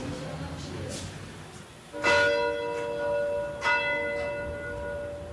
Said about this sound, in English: This is our little bell.